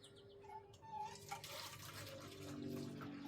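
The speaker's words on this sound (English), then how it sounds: "I just poured some white vinegar in there." White vinegar pours into a container for soaking a vintage Gillette safety razor, a faint, steady liquid splash and trickle building over a few seconds.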